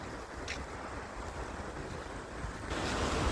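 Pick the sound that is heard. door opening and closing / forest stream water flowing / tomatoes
forest stream water flowing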